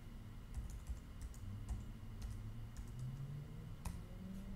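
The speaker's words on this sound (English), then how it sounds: "I could type in the password for that account" A password being typed on a computer keyboard, with a short run of quiet, irregular key clicks over a low steady background hum.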